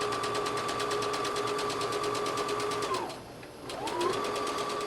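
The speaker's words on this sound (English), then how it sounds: "we're going to zigzag right along the edge to finish those seams" A sewing machine zigzag stitches along the seam edges of an A-line dress with a fast, even mechanical whir. It pauses briefly, then resumes the steady stitching nearby.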